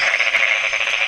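Crab-eating frog calling near wetland water, a short, close, buzzy croak lasting about a second on its own.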